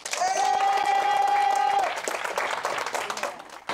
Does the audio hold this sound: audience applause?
yes